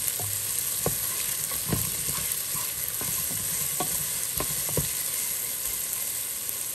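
A spoon stirs samosa filling with chives in a frying pan, with repeated scraping knocks over a soft, steady sizzle, heard close and quiet.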